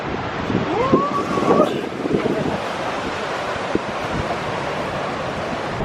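Ocean surf washes in at the beach at Surfers Paradise on the Gold Coast as a steady roar under buffeting wind noise, with brief voices in the background.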